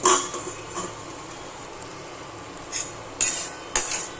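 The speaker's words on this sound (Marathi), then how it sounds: "त्याच्यावर हे असं झाकण ठेवायचं." A metal lid set onto a pan of sizzling egg curry masala: a clatter at the start, then a steady frying hiss with a few light metallic clinks and taps near the end.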